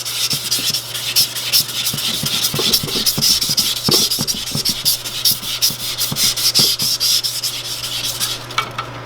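Belt sanding rust from a fire-damaged drill press with a not very coarse belt, a loud close rasping scrub in quick repeated back-and-forth strokes that runs the whole time and eases off at the end.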